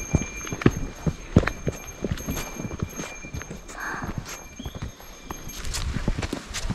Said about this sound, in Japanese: 木曽駒ヶ岳の熊よけの鈴です。 いい音。